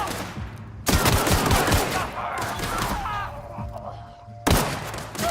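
Rapid gunfire rattles through a firefight in The Outer Worlds, dense bursts of overlapping shots after a brief lull, loud and close, with a tonal hum and scattered combat noises underneath.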